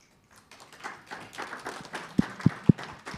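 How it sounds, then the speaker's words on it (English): Scattered light claps from a conference audience at the Commonwealth Biodiversity Forum in Guyana, building into three sharp, loud, close claps near the end over a low murmuring room. "Can we clap ourselves heads for completing number 1?"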